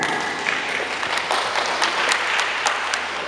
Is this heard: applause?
yes